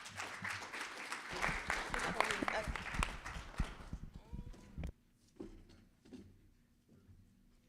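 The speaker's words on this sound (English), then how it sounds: "Let's give her another round of applause." Audience applause at a Native Edge Institute gathering in Mashantucket, Connecticut, a dense burst of clapping for about four seconds that then thins into scattered claps and faint voices.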